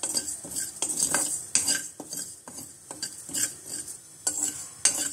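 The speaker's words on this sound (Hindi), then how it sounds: "सबसे पहले गैस जलाकर हम सौंफ को भूनेंगे और इसके साथ ही मेथी दाना डाल देंगे।" Fennel and fenugreek seeds are dry roasted in a pan on a gas stove, with a spoon stirring and scraping in repeated rhythmic strokes and a faint dry sizzle underneath, close and steady.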